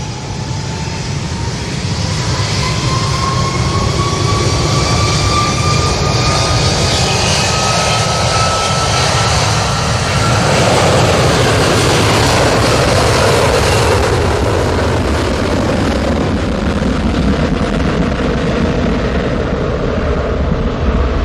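Aircraft landing at Manchester Airport, a loud, sustained jet roar with a high engine whine that slowly drops in pitch as it passes, then a long rumbling wash of engine noise.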